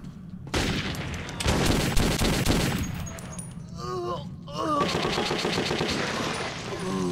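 Machine gun fire in the game Metro 2033, several loud rapid bursts with short pauses between them, and brief other game sounds mixed in.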